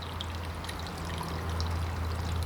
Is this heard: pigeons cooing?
no